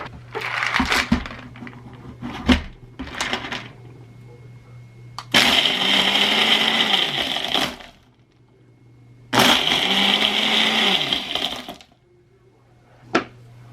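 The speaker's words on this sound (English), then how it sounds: "Then we're going to give it a nice blend." A blender whirs through frosted cranberry margarita in two loud sustained bursts of several seconds each, separated by a pause, with clatter and handling knocks around them.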